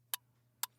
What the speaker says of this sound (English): Aaron, I'm going to start the timer now.